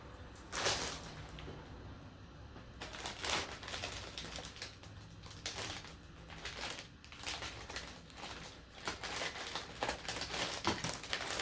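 Yarn subscription packages being cut open, with crinkling plastic and scissor snips in a busy, close run of rustling and crackling throughout, no talk.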